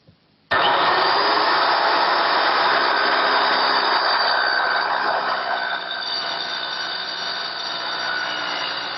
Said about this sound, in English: Position the saw over the line and then slowly plunge it through the material.